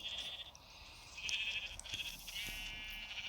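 A faint, thin sheep bleat from Minecraft, drawn out and repeated over a quiet background.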